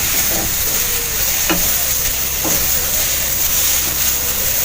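Tomatoes, onions and cashews fry in a pan for butter chicken, giving a loud, continuous close-up sizzle broken by a few scraping stirs of a spatula against the pan.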